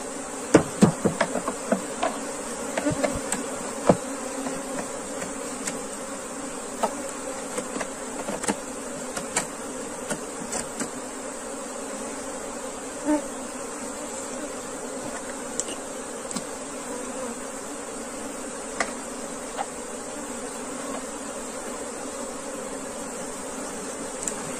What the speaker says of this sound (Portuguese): Agora aqui ajeitar o enxame, né? Ver se a rainha fica dentro.